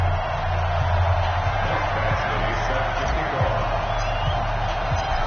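Steady roar of a packed stadium crowd at a Tennessee Titans versus Houston Oilers NFL game in an EA Sports video game, continuous cheering and babble with a commentator talking over it.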